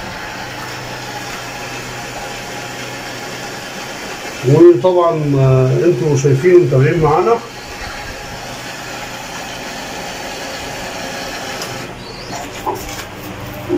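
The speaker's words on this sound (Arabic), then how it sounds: "وبدأنا في تشغيل الغسالة" A washing machine motor hums steadily at low pitch throughout, with someone speaking briefly partway through over the continuous mechanical drone.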